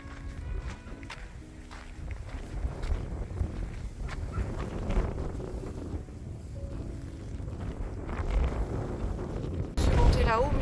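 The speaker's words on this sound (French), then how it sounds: "Il y a un vent glacial" Icy wind gusting across a coastal hiking path on the GR34 between La Guimorais and Dinard, a constant low rumbling buffet on the microphone with footsteps and a voice speaking underneath.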